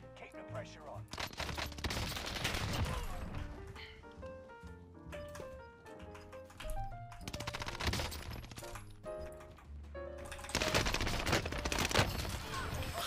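Bursts of automatic gunfire from a Call of Duty Warzone match on Rebirth Island, loud and repeated in clusters over in-game music and effects, with heavier volleys near the start and end.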